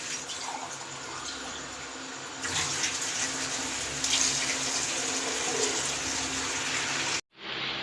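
Water pours into a pressure cooker holding beef in a steady gushing stream that grows fuller partway through, then cuts off abruptly near the end.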